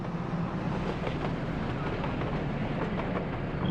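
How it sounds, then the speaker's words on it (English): A steady rolling rumble of an oil train in the video game Workers & Resources: Soviet Republic, a continuous mechanical drone with faint rhythmic clatter, with no talk over it. "This is just a regular old boring oil train, or fuel exporter and oil mover arounder train."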